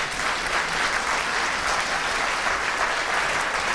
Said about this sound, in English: can we give Kyle a massive round of applause?